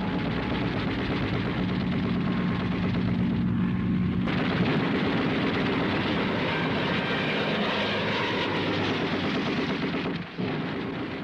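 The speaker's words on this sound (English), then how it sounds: "24 P-40s headed into the skies for battle." Roaring aircraft engines in a battle scene with P-40 fighter planes, a loud sustained drone with the pitch shifting midway and sharp gunfire-like bursts mixed in, no voices.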